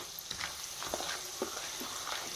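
Hot oil sizzling steadily in a pan, a constant hiss with faint scattered pops and stirring clicks, no voices.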